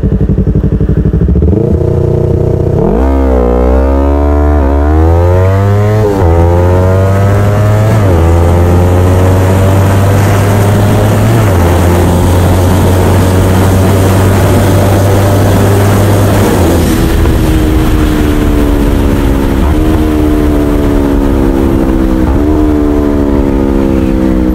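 A Yamaha R3 motorcycle revs hard on a test ride, its engine note climbing steeply through several gear shifts and settling into a strong, steady drone. The sound is loud and close, with no talking.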